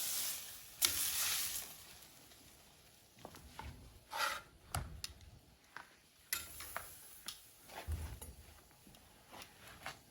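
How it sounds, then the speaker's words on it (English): A big piece of beef searing on a griddle gives a faint, low sizzle, broken by scattered ticks and sharper crackling bursts, quiet and close with no talking. "It sears perfectly."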